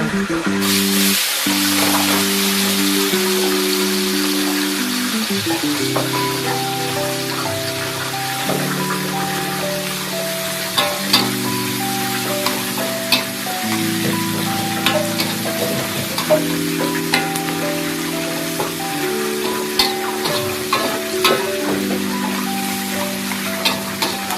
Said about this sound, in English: Stir fry the bawang besar.